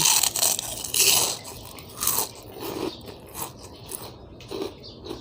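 Crunchy homemade potato crackers are bitten and chewed up close, giving repeated loud crisp crunches in an irregular rhythm, with no talk.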